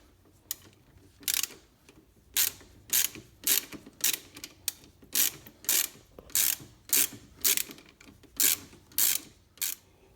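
A ratchet wrench loosening a 15 mm nut on a Polaris Slingshot parking-brake spring cover, giving bursts of rapid clicking in a steady back-and-forth rhythm, close up and fairly crisp.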